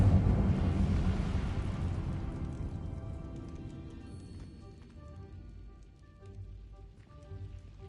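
An Incendio fire spell erupts in Hogwarts Legacy, a loud crackling, hissing burst of flame that gradually fades into quieter flickers and faint chimes.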